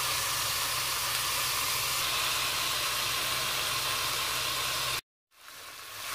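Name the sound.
veal pieces browning, sizzling in a hot cooking pot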